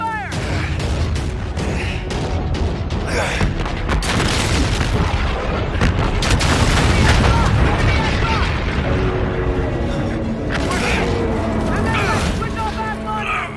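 Call of Duty: Infinite Warfare battle with repeated booming explosions and bursts of gunfire, loud and dense, while voices shout commands over the fighting.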